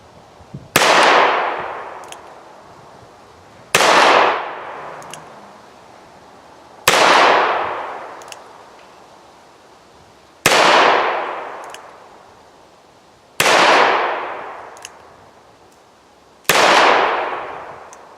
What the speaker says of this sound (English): We're just shooting some Remington UMC 130 grain metal case